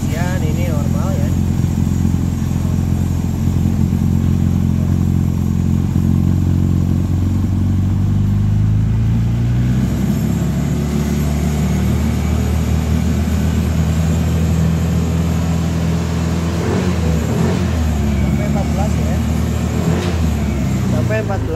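A Yamaha NMAX scooter engine, with recurring fault codes, is revved to about 2000 rpm during a charging check, a loud close drone whose pitch climbs and then settles, with talking over it.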